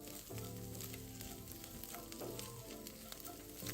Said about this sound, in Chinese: 接着再将虾米也加进来一起爆香